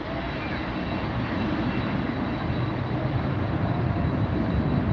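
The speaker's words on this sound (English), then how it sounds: "767 300F. Getting out of here in a hurry." A Boeing 767-300F cargo jet takes off with a loud, dense, continuous engine roar that stays heavy and steady throughout the few seconds, close and with no voices over it.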